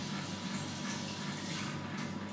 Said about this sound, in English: At this point we're going to add in our ice water.